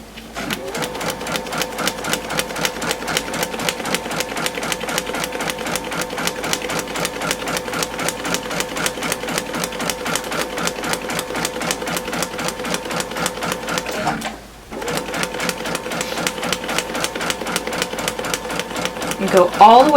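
A sewing machine stitches a quilt seam in a fast, even mechanical rattle that runs steadily, pauses briefly midway, then resumes, with no talk.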